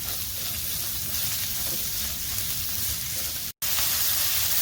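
Liver added to a pan of sautéed onions for a spicy Kerala-style liver fry makes a loud, continuous sizzle with a steady hiss, broken only by a very brief gap near the end.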